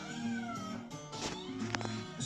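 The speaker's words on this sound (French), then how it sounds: "C'est bien connu, les siamois sont très bavards." Three-week-old Siamese kittens meowing at home, several high, drawn-out overlapping mews and cries in quick succession, close and fairly loud, with no one talking.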